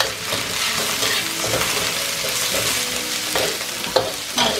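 Pickled vegetables with ginger, garlic and chili bean paste stir-frying in a wok, a steady close sizzle with occasional scrape and clack of the spatula, no voices.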